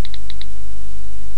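Typing on an iPhone 3G touchscreen keyboard gives four quick, faint tick-like key-click beeps in a rapid burst at the start, then steady hum and hiss for the rest.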